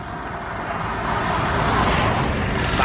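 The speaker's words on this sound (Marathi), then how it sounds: "बाकी रोडला गाड्या मस्त खूप सुटल्या आहेत मुंबईवरून येणाऱ्या" Steady road traffic on a highway with vehicles streaming past, a continuous broad roar of engines and tyres that swells slightly toward the end, with no voices.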